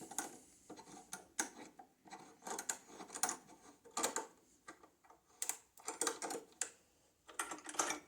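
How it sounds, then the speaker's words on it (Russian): A clamp is tightened down onto a spike nut on a Focal Aria 948 loudspeaker, giving a series of sharp clicking ratchet-like ticks in irregular bursts, close and fairly quiet, with no talking. "Достаточно затянуть струбцину до упора."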